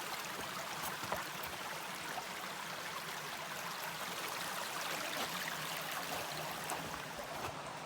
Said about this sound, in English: Just crossed a pretty creek.